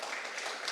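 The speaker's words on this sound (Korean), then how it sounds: "박수 한번 칩시다." A church congregation at a Friday prayer meeting gives a short round of applause, a faint, even patter of many hands clapping for under a second.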